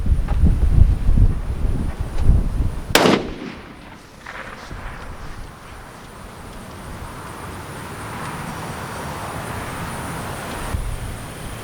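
A single sharp rifle shot from a .350 Legend rifle fitted with a budget scope cracks out loudly outdoors, its echo trailing off into steady background noise and wind.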